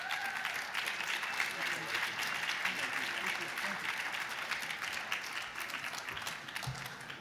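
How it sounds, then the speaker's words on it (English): Sustained audience applause at a regional Emmy awards ceremony, a dense, steady wash of clapping from a large crowd lasting throughout without pause. "Big round of applause, please."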